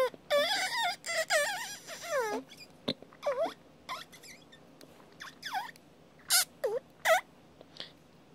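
Kazoo played in a skilled, expressive style, with buzzy sliding melodic phrases and quick squeaky bursts, loud and close, alone without talk.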